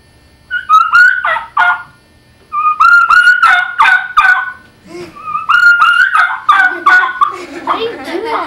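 A turkey call gives short bursts of yelping notes, raspy and rising, in three clusters separated by brief pauses; a call imitating turkey yelps, loud and close.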